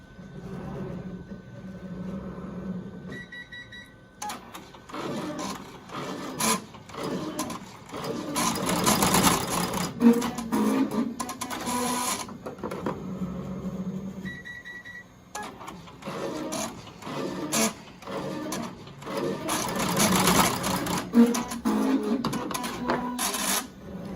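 A Melco embroidery machine sews a pleated fabric mask in two long runs of fast, rhythmic mechanical stitching with clattering needle strikes, each preceded by quieter whirring and beeps, close and fairly loud.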